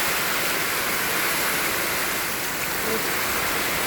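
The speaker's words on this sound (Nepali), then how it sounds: "पानी यति ठुलो पानी परेछ, हावाहुरीसहित परेको छ" Heavy rain pours down with strong wind, a loud dense unbroken hiss filling the whole moment at steady level, close by and with no talk over it.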